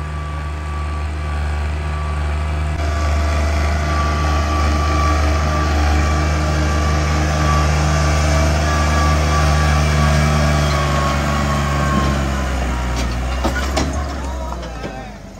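A New Holland 3630 tractor engine labouring loudly at close range as it lifts a chopper, a steady deep rumble that swells and then eases off near the end.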